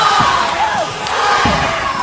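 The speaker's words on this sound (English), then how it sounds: "And that's the crowd. The crowd is enjoying this." Fans at an independent pro wrestling show cheer during a tag team match. The crowd noise is loud and continuous, with shouting voices rising and falling across the whole stretch.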